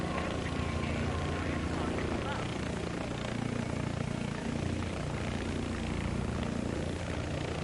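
Helicopters and planes in the video game War Thunder drone steadily through a dense, continuous rotor and engine roar that holds at an even level throughout, with no clear breaks.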